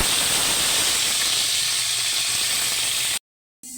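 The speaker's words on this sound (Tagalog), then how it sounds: "ngayon po ilagay na po natin yung ating giniling" Ground pork dropped into a pan with sautéed onions, giving a loud, steady broadband hiss of sizzling that continues unbroken before cutting off abruptly.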